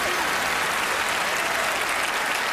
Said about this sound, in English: Another round of applause for Gianni.